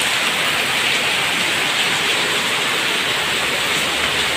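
Heavy typhoon rain pours steadily with floodwater rising, a dense, unbroken roar of water that stays loud and close throughout, with no voices.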